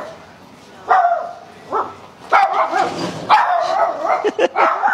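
Untrained dogs hooked into a harness bark in sharp, uneven bursts, mixing deep woofs with higher yips and a brief whimper, fairly close.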